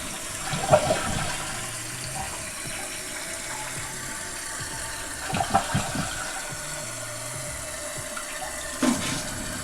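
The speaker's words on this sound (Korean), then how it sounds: "자, 이제 물을 한번 내려보도록 하겠습니다" A toilet flushing, with water rushing steadily and fairly loud throughout, broken by a few short knocks and gurgles near the start, midway and at the end, with no voices.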